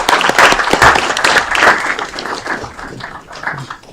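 An audience at a city council meeting gives a loud, dense round of applause for a foundation. The clapping fades slightly toward the end, and no one speaks over it.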